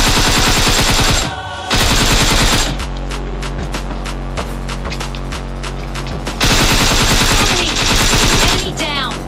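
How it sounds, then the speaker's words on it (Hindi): Shotgun and automatic gunfire from the PUBG Mobile Lite game rattles loud and continuous, with rapid repeated shots and a brief pause before the barrage resumes, filling the mix with no clear talk over it. "ये शॉटगन कौन मार रहा है"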